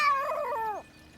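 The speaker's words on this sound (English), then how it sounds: "If you can get this cat off me" A cartoon cat from the animated series Mona the Vampire lets out a single drawn-out, wavering yowl that slides downward at the end, close and clear, then goes quiet.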